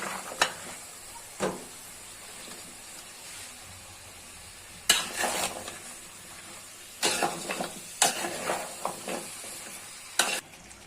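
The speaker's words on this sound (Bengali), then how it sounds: "এখন দিয়ে দেব সিম আলু ঘাগরা। আমি সবগুলো একসাথে কষিয়ে নেব।" Runner beans, new potatoes and ghagra being stir-fried together in a pan, bursts of sizzling and spatula scraping arriving in uneven clusters over a soft background hiss.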